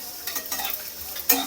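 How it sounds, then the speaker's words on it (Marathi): Spice masala with sesame seeds and dry coconut roasts in a pan, with soft sizzling and a few stirring scrapes repeating close by, fairly quiet. "मसाला छान खरपूस भाजून घ्यायचा"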